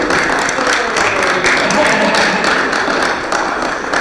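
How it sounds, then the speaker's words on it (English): Members of the public at a Glens Falls Common Council meeting applaud an attendee who stands up, close and fairly loud, a brisk patter of hands in a meeting room lasting several seconds with no speech. "so you can all applaud her"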